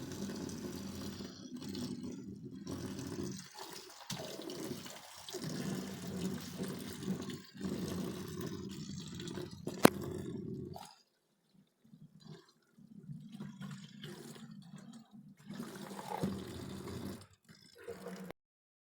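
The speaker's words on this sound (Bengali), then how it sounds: "ঠান্ডা পানি দিয়ে দিচ্ছি।" Cold water pours over boiled noodles in a strainer, a steady splashing flow that pauses midway and then resumes, quiet and close.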